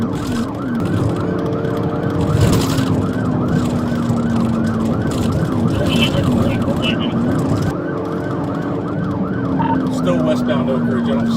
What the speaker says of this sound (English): Dash camera video shows an officer turn on his sirens and follow Hefner